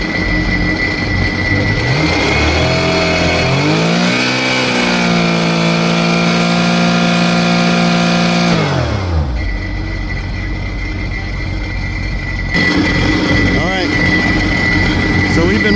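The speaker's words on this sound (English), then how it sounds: "But if I go and rev it up, we'll get up." A Sea-Doo RXT personal watercraft engine with oil pressure problems revs up close and loud, its pitch climbing, holding high for several seconds, then dropping back to a rough idle.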